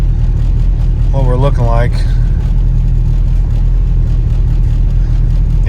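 A turbocharged LS-VTEC Honda Civic engine idles cold with a steady, close, low rumble throughout, while someone speaks briefly over it.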